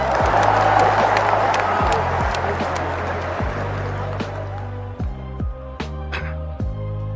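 An audience claps and cheers loudly in a hall after a speaker's call for applause, with dense clapping and crowd noise that fades into sparser claps and short bursts near the end.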